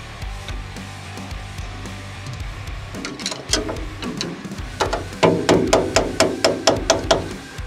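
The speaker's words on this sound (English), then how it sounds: "I'll tighten back down this lock nut here." Metal tapping and clinking while a lock nut is tightened on a Can-Am Maverick X3 shock, a run of evenly spaced sharp knocks that grow louder and more regular toward the end, close up.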